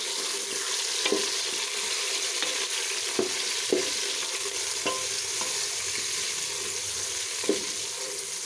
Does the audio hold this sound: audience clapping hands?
no